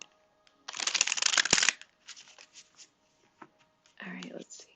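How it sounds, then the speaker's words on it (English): Tarot cards are shuffled close to the microphone in a long riffling burst, then a few lighter taps and slides, followed by a shorter second shuffle. "Let's see, one more shuffle."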